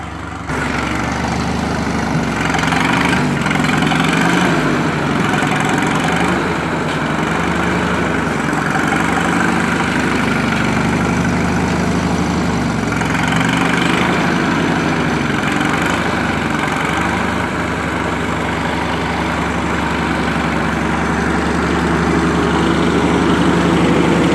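A 1951 Ferguson TE 20 tractor engine idles steadily and close by, a continuous low rumble with a slight mechanical vibration that holds even throughout, no voices over it.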